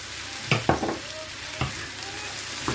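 Mixed vegetables frying in a pan, seasoned with salt and black pepper, with a steady soft sizzle punctuated by a few louder stirring scrapes and clatters at close range.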